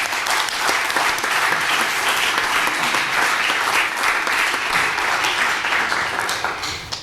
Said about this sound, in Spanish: Vamos a aplaudirles otra vez.